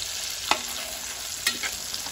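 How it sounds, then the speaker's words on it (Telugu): Large fish pieces frying in a pan, a steady close hiss with two sharper utensil scrapes or turns, no talking. "నీట్గా ఫ్రై చేసుకోవాలి"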